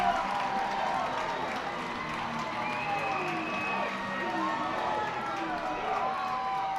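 Ballpark crowd at a minor league baseball game between the Harrisburg Senators and Reading Fightin Phils keeps up a steady roar of cheering and chanting, a dense wall of voices with whistles and shouts rising through it.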